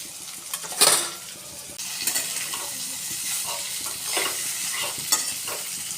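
Potatoes go into a spiced pan for Gujarati bhungla bateta and get stirred, with a sharp clink of utensil on metal, then continuous frying sizzle and repeated scraping, clattering stirs up close.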